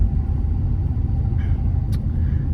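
A 2023 Ford F-350 pickup towing a 28-foot Featherlite trailer rolls along with a steady low engine and road rumble, heard from inside the cab. A brief faint hiss rises near the end.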